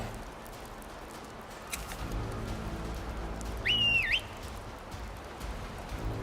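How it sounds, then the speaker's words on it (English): A horse whistle in the Skyrim video game sounds once, a brief rising and falling whistle tone near the middle, over steady rain-like game ambience. "And let's get the horse whistle."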